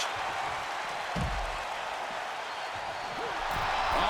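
A wrestling arena crowd in the WWE 2K26 video game roars steadily throughout, a dense wash of cheering with a few thuds underneath and no one talking.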